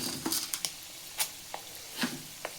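Peanuts and chana dal fry in a hot pan, with soft sizzling and a few scattered crackles and stirring taps, close by.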